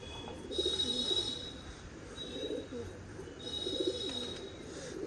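Pigeons sitting in a net coo in low, rolling bursts, a steady chorus of several birds close by, with faint chirps and a higher tone running above.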